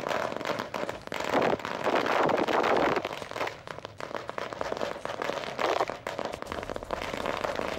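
Supporters at an election-result celebration in Satara set off firecrackers that burst in a dense, continuous crackling barrage with loud surges, heard from close by.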